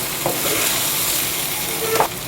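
Food sizzles steadily in a frying pan as red pepper is stirred in, with a constant bright hiss and a couple of soft scraping stirs, close and alone.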